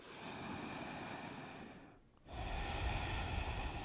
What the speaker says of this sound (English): breathing nice and deep